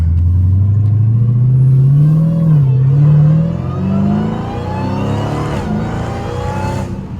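A Dodge Hellcat drives with its supercharger whining loudly over a steady engine roar, the pitch rising and falling with the throttle throughout.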